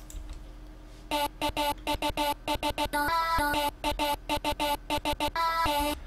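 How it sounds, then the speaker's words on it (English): Chopped vocal samples fire in short, choppy bursts over a beat, stuttering on and off in quick rhythmic fragments with gaps between, loud and dry, with no talk over them. "So that's just the raw chop."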